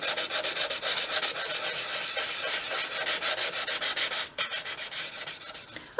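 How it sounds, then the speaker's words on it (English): Steady back-and-forth rubbing of 500 grade sandpaper over dried filler on a dolls house floor, close and even in rhythm, with a brief pause near the end and no talking. "I'm now coming in with a 500 grade sandpaper, and I'm just going to sand off all the excess."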